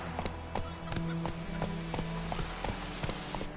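Roach, the horse in The Witcher III: Wild Hunt, gallops with rhythmic hoofbeats thudding evenly and close, a steady clip-clop continuing for several seconds.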